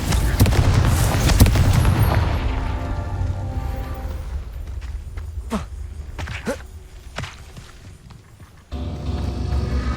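A Confringo fire spell bursts in the Hogwarts Legacy video game: a loud, booming blast at the start, then a few sharp, scattered impacts that fade into a quieter rumble.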